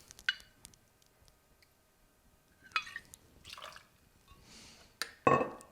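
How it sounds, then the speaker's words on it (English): Bourbon is poured into an ice-filled cocktail shaker: a few short liquid splashes and drips with light clinks of ice, close and fairly quiet, separated by pauses. "Add 1 ounce of your favorite bourbon."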